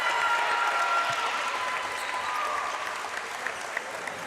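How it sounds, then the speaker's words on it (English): A crowd cheers and claps in a gym at a high school boys' basketball game between Bishop Dunne and Brook Hill, a broad continuous wash of applause that eases slightly toward the end. "And look, the crowd goes wild."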